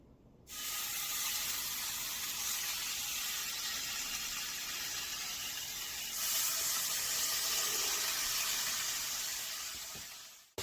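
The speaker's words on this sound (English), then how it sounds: "We're going to go ahead and fry that up real quick." Two pieces of food frying in a pan on a home stove, a steady loud sizzle and hiss that starts abruptly and holds evenly, swelling slightly midway, with no talking over it.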